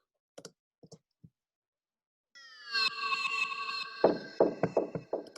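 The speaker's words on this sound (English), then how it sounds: "So it's just a clave sound that I reversed." A reversed clave hit processed through Guitar Rig with delays and phaser: a few dry clicks, then a swelling shimmering tone with echoing smeared repeats, loud and alone.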